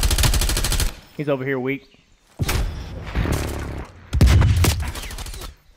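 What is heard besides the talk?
gunfire in a shooter video game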